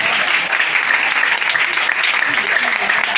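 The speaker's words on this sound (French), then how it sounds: "Est-ce que tu peux acclamer le maître?" Dense, steady applause from an audience at a religious gathering, continuous clapping at full volume throughout with no pauses and a faint wash of voices underneath.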